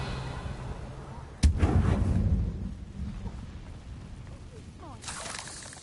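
Incendio fire spell cast in Hogwarts Legacy on PS5: a sudden loud blast with a rushing, crackling burst that fades over a second or two, followed later by a fainter shimmering magical swell.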